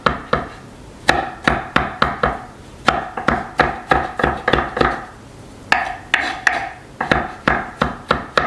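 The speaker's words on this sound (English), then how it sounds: "I've got a couple of garlic cloves here. I'm going to go ahead and get those minced up." A knife mincing garlic cloves on a cutting board knocks in quick bursts of close, crisp taps, pausing briefly between runs, with no one talking.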